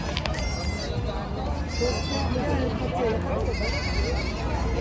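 Goats bleat repeatedly amid a noisy crowd, with people talking throughout over the bustle of a busy outdoor livestock market in Ghodegaon.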